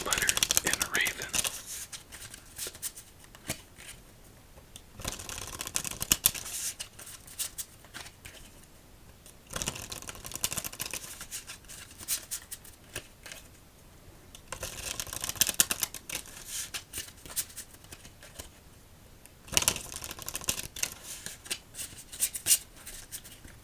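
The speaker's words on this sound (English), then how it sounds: "Let's give this 5 shuffles for each letter in Raven." A tarot deck, The Raven Deck, is shuffled over and over in repeated riffling bursts, close and crisp, with brief pauses between rounds and soft talk running underneath.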